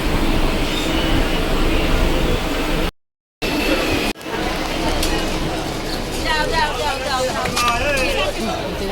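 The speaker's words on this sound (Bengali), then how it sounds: "এবার ট্রেন দিয়ে নামছি" A train rolls at a station in Badkulla while passengers get off, with steady loud rail rumble and rattling, faint wheel squeals and a crowd babbling throughout.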